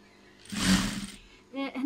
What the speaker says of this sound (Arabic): انا غادي نخيط هنايا على بعد تقريبا واحد سنتيم اللي غادي نخلي صاير داير